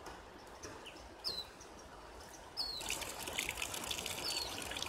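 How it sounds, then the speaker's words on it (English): Water poured out of a Seychelle filtration bottle outdoors, a faint trickle that grows into a steadier stream partway through, with birds chirping in the background. "I always like to pour a little bit out."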